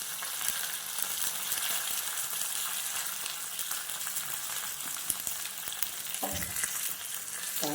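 Curry leaves and asafoetida sizzle in hot oil as a tempering for rasam, with a continuous close crackle and a brief stirring knock near the end; no one speaks.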